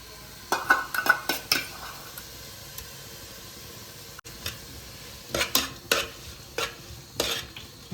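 Ginger garlic paste and onion frying in a pan, stirred in bursts of scraping and clattering with a pause midway, soft sizzle beneath, close and fairly quiet.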